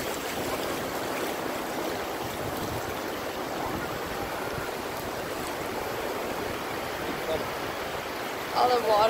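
Ocean waves rolling in over an uneven seabed, a continuous broad wash of surf, close and steady, with a brief voice near the end.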